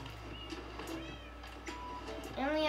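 Cats in a castle in a video game give short meows, spaced out over a steady electronic background hum, with a louder meow near the end.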